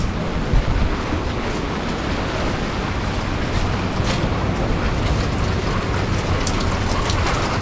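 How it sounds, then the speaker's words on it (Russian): Rain falls steadily on a street in Lazarevskoye, a dense, even hiss of drops hitting the pavement that continues throughout without pause. "вот к улице Калаш уже пошел дождик опять"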